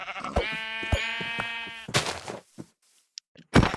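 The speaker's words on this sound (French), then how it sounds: "Oh, des moutons!" Video game sheep bleat loudly up close, a long wavering cry followed by shorter bursts, then sparse clicks and a final sharp sound.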